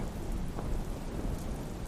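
Heavy rain pours in a Hindi animated story, a loud steady dense roar of downpour with low thunder rumbling throughout.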